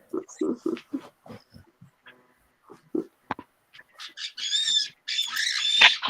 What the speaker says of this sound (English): There's the bird going.